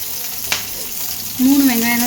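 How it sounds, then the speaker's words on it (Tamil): Onions sizzle and crackle in hot oil nearby, with a stir scraping the pan and a brief voice toward the end. "சேர்த்துட்டு நல்லா வதக்கிக்கலாம்"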